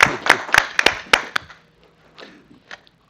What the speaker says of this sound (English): so I think it's worth a clap